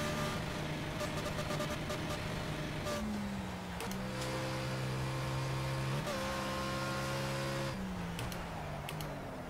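A racing car in the Project Cars game holds full throttle, its engine note climbing and stepping down through quick gear changes, loud and close, with no talk over it.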